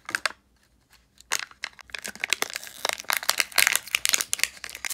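The individual plastic packet around a Kinder Surprise toy insert is crinkled open, with a faint rustle at first, then a dense run of sharp, close crackles and crunches that continues to the end.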